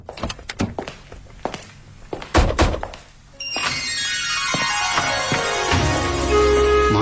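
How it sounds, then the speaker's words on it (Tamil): A house door key rattles and clicks through several sharp metallic knocks, then the door swings open with a long creak and a steady rush of room sound. "சாவியை கொடுங்க, நான் கதவை திறக்கிறேன்."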